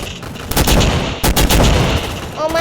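Rapid bursts of gunfire from the video game Gun Fight Arena crackle loudly and continuously through most of the stretch, with a brief gap midway and dense repeated shots on either side.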